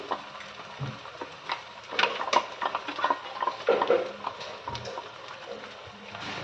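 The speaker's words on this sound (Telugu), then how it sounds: "మసాలాలను కూడా వేసి బాగా ఇలా ఆయిల్లో పచ్చివాసన వెళ్ళేదాకా చక్కగా ఫ్రై చేసుకోవాలి" Masala with ginger, garlic and green chillies fries in oil for a mushroom masala gravy, soft sizzling under frequent spoon stirs and clinks against the pan, close and moderately quiet, without talk.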